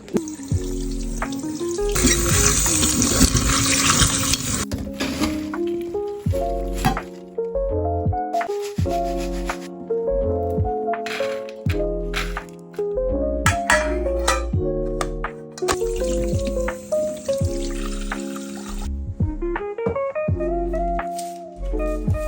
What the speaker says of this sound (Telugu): ఇంకొకసారి దీన్ని వాష్ చేసేసి తోంపేసి ఇట్లానే పెడతాం